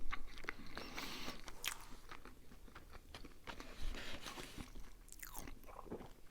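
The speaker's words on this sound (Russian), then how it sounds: "Стрипс пробую." Crisp bites and chewing of KFC fried chicken strips, close and quiet, with irregular crunchy snaps and moist mastication and no talking.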